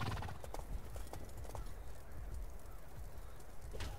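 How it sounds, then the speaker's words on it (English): Galloping horse hooves in a medieval battle video game set at St Albans, a steady rapid clip-clop running close and loud through the whole stretch with scattered battle noise behind. "The horse is behind me."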